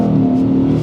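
The baby V6 in a 1990s Mazda Lantis revs loudly from inside the car, a strong steady buzzing engine note held briefly through a gear change, with no other sounds.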